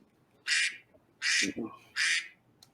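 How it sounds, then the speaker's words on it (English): A duck quack sound effect used as a ten-minute time signal during a debate, with three loud, raspy quacks spaced about a second apart and a faint short vocal sound between them. "the duck symbolizes the 10 minutes"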